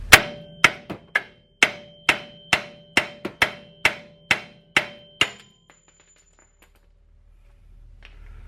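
Two hammers are used on a steering part of a third-generation Dodge Ram 2500 Cummins truck: about eleven sharp, ringing metal blows at a steady rhythm, close and loud, then a fade into near silence.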